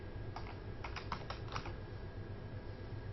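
Close, quiet typing on a computer keyboard, a short burst of several keystrokes in an irregular rhythm followed by a low steady hum, with no speech.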